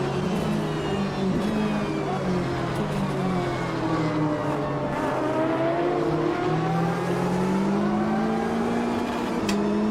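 A Porsche 911 racing engine in the Automobilista 2 video game drones loud and constant on the rev limiter, its pitch wavering slightly as it holds high revs.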